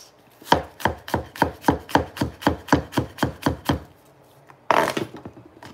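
A knife chops food scraps on a board for homemade vinegar, about fourteen quick, steady, evenly spaced cuts, close and crisp, followed after a short pause by one louder thud.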